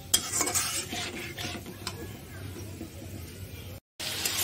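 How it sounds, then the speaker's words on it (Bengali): Spice paste being stirred and sautéed in a pan for a hilsa fish head and tail muri ghonto, with steady soft sizzling and scraping stir strokes close by, a few sharper clinks, and a brief dropout near the end. "তো এখন আস্তে আস্তে মশলাটাকে ভালোভাবে কষিয়ে নিচ্ছি।"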